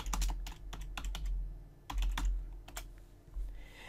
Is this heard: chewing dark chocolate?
no